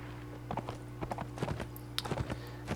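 Horse hooves clip-clop in uneven bursts of a few steps in a Mount & Blade Warband American Civil War battle, over a steady low game hum, with no voices.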